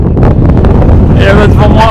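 Wind gusting across an open mountain viewpoint in the Cerdagne area of the Pyrenees, a loud, steady buffeting roar against the microphone throughout, with a voice speaking over it.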